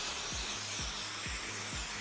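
Several short hissing sprays onto quilt fabric repeat at a steady pace, close by, over a constant background hum.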